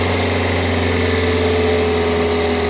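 A car engine with brand-new coil packs and spark plugs, steady and loud with a strong low hum, held near the mic without clear rev peaks.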